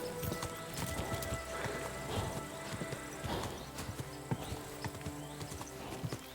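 Horse hooves clip-clop at a steady galloping rhythm in the medieval video game Kingdom Come: Deliverance II, close and continuous with a snort or whinny mixed in over faint ambient game sound.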